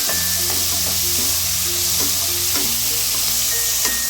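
Tomato and onion sauté in oil for a red cowpea kuzhambu, giving a steady, close sizzle broken by a few clinks and scrapes from stirring, with no voices.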